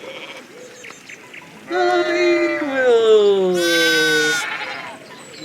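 Sheep in the game Pentiment bleat in a long, loud, wavering cry that rises in pitch partway through, with a person speaking briefly over the animal sounds.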